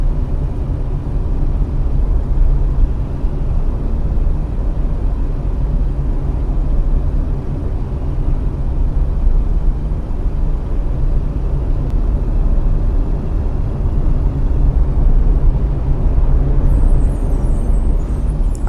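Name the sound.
bus driving in a storm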